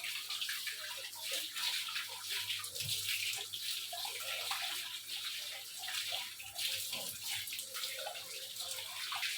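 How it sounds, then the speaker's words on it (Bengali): Water pours and splashes continuously over a cow being bathed, a steady gushing stream with small irregular spatters, heard at low level without speech. "দেখেন মাথার মধ্যে পানি দিচ্ছে"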